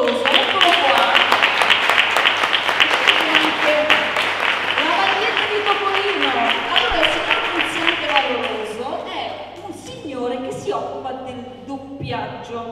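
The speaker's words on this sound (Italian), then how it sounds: "il primo applauso va per il signor Nunziante Valoroso." An audience at the Villae Film Festival at Villa d'Este gives a loud, sustained round of applause that thins out toward the end, with voices talking over it throughout.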